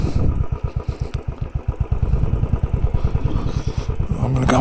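A Royal Enfield Classic 500 motorcycle idles close by while being parked on soft ground, its single-cylinder engine thumping in a steady, rapid pulse that swells slightly toward the end.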